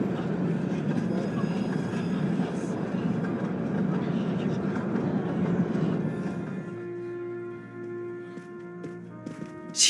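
Train rumble from a video game, a loud continuous roar with rattling wheel noise through a tunnel that drops away toward the end, leaving a quieter steady hum.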